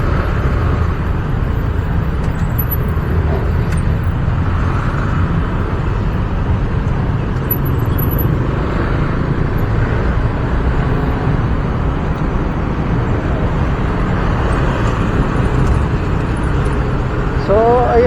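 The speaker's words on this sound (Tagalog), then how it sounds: "Grabe ang traffic." Steady heavy road traffic rumbles throughout, a dense low drone of engines with no distinct passes standing out, loud and continuous from start to finish.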